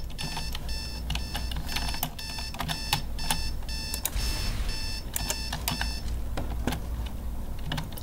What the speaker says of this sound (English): my alarm clock legit makes the same exact noise